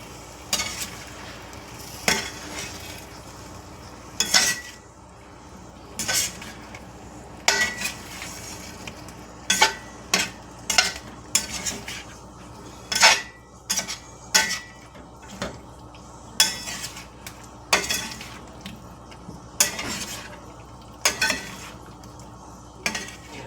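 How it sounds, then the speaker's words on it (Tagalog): A utensil stirs sweet and sour pork through its sauce in a pot, with repeated scraping clinks and knocks against the metal coming at an uneven rhythm over a faint sizzle. "So, halo lang natin ng mabuti."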